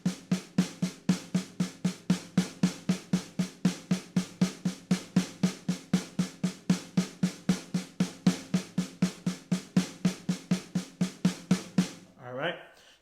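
Snare drum struck with alternating hands over a 115 bpm metronome, a long run of quick, evenly spaced hits in steady rhythm at moderate volume, ending with a brief scrape or ring near the end.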